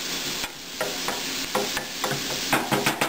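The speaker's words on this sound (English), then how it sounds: "It doesn't take long, it's just a quick saute." Pizza topping getting a quick sauté in a pan for a low-carb ultra-thin crust pizza, bright steady sizzling with repeated scraping and tapping strokes of a utensil.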